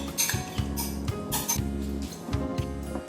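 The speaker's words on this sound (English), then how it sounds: "Give it a good stir." A spoon clinks and scrapes against a bowl while stirring a seasoned mixture with vinegar, salt and pepper, a steady run of close, light taps and clatters with no talking.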